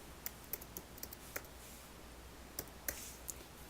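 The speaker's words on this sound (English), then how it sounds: "I'm going to type in the words" Scattered keystrokes on a computer keyboard, soft, close clicks tapped in a couple of short bursts with a pause between, over a faint steady room hiss.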